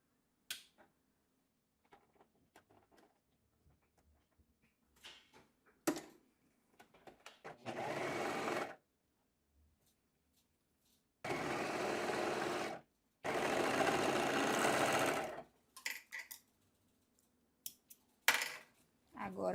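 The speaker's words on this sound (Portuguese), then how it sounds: "E para finalizar na overlock, a gente vai passar o cós e o gancho." An overlock sewing machine stitches the elastic waistband and crotch seam of a pair of shorts in several loud, rapid whirring bursts of a few seconds each, separated by quiet pauses with light fabric handling and clicks.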